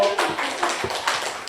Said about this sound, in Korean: 우리 한번 주님께 기립박수를 드릴까요?